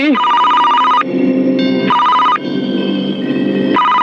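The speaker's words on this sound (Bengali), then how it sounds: "তোর বাপের ফোন আইছে" A telephone rings loudly and close in repeated electronic bursts, alternating bright ringing tones with lower buzzing intervals across the whole stretch.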